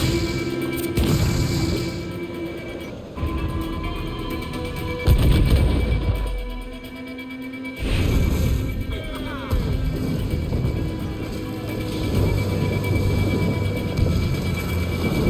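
Ship cannons fire in a naval battle in the Assassin's Creed Black Flag video game, several loud booms spread through the clip amid game sound effects, with a voice shouting orders over them.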